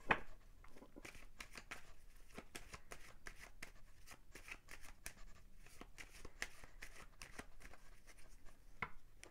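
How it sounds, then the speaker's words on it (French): Two decks of tarot cards are shuffled by hand in a quiet room, producing a soft, continuous run of crisp riffling and flicking sounds with frequent small snaps. "je vais prendre 2 paquets de cartes ici, on va les mélanger"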